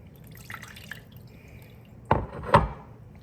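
Water drips from a lump of freshly made butter being squeezed in a kitchen. There is a soft patter at first, then two distinct, louder drops close by near the end.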